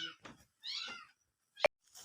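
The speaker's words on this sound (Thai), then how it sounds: "แต่แมวเด้ออยู่นี่เด้อห้อง" A cat meows in a small room, several short nasal calls with gaps between them, close and fairly clear, plus a brief sharp knock near the end.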